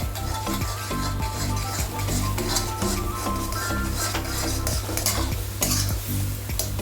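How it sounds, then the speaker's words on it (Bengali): Semolina being stirred in a pan for upma, a steady scraping of spoon against metal with a soft sizzle and occasional utensil clinks, continuous and close with no talk. "এই দেখুন সুজিটা দিলাম। আস্তে আস্তে দিয়ে এইভাবে নাড়তে হবে।"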